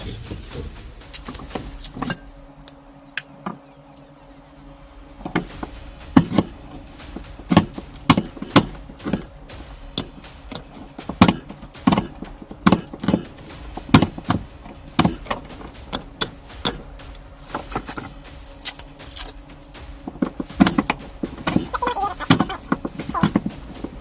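A knife cuts beef fat into pieces for rendering tallow, giving repeated sharp chops and clicks against a board in uneven bursts, close and fairly loud, with a steady hum underneath.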